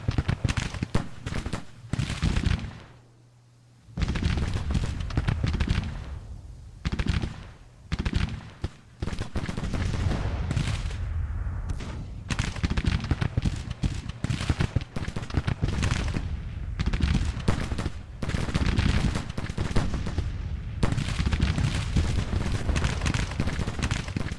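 Rapid battlefield gunfire from a Civil War strategy game crackles in dense, continuous volleys, with massed musket shots overlapping loudly and only one brief lull near the start, no voices over it.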